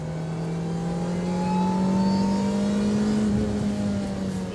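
Alpine sports car engine revving steadily, a loud, sustained near drone with a gradual rise in pitch and no speech over it.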